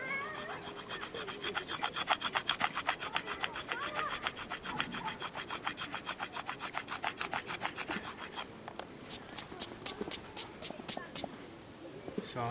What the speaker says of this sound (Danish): Man kan også gå ned i størrelse og bruge en mindre slibesten.